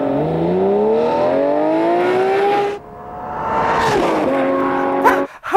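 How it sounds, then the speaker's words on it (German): Lamborghini Murcielago V12 engine roaring hard under acceleration, rising in pitch through the gears with a brief drop at a shift, then revving again loud and close with a final sharp burst. "Im zweiten geht es bis 7500 Touren brutal vorwärts. Mit brüllendem V12-Motor."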